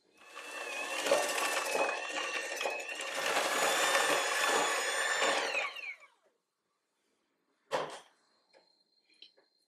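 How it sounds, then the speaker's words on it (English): A small electric hand mixer creams butter and sugar for coconut biscuits, whirring loudly and steadily for about six seconds before stopping, followed by a brief burst and faint clinks. "So I'm just going to use my little hand mixer here, cream the butter and the sugar until it's nice and light and fluffy"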